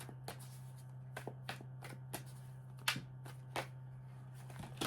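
Quick riffling snaps of tarot cards being shuffled, several bursts in an uneven rhythm, close and fairly quiet, with a low steady hum underneath.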